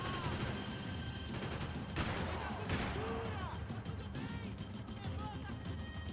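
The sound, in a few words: gunfire in the video game Max Payne 3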